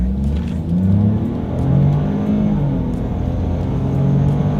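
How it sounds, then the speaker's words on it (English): A 2020 Ford Escape with a turbocharged three-cylinder engine pulling up to speed, a low engine drone with rising and falling pitch sweeps as it accelerates, heard from inside, steady and fairly loud with no talking. "Let's do a quick little acceleration here, and let's see how quickly we can get this new 2020 Ford Escape here up to speed."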